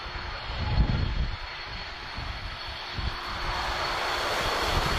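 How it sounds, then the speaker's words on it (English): A Boeing 767 airliner taxis at Lisbon Airport with a steady, broad jet-engine roar and whine, held and fairly loud throughout, with low wind rumble underneath. "767 on the move."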